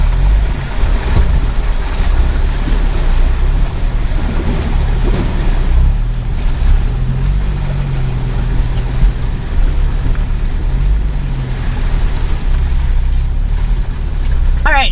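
Ford Bronco Everglades driving into water: a loud, continuous rush of splashing and churning water mixed with buffeting wind noise that carries on throughout.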